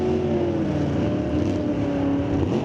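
Drag race cars launch side by side, a 1976 Dodge powered by a 445 Mopar engine beside a 1968 Pontiac at a raceway, engines roaring loud and steady throughout with a continuous low growl.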